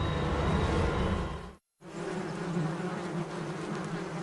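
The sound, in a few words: swarm of carnivorous wasps taking flight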